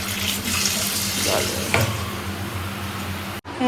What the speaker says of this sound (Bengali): মাছটাতে জল দিয়ে রেখে দিচ্ছি